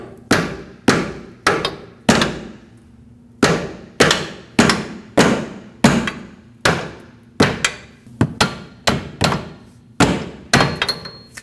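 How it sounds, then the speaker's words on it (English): Sharp metallic hammer taps on a bolt to separate a Nissan Frontier upper control arm, in quick clusters of two or three, repeated steadily with brief pauses between bursts, close and loud. "Tap this with a hammer if needed."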